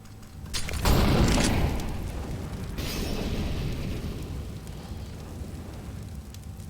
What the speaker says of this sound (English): Those incendiary grenades have got a good wall set up